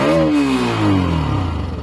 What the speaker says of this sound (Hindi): स्टार्ट करने के लिए एक क्रैंक और वो हो गया स्टार्ट, और इसका एग्जॉस्ट कैसे सुनाई देता है।